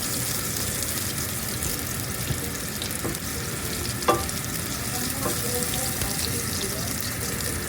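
Garlic and ginger sauté in a pan with a steady, close sizzle and frying hiss, a few faint clinks of a utensil breaking through, no voices.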